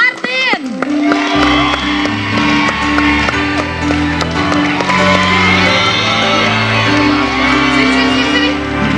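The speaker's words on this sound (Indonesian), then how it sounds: "Beri tepuk tangan untuk John Martin." A studio audience on an Indonesian TV talk show claps and cheers loudly for a guest, with shouts and whoops over music throughout.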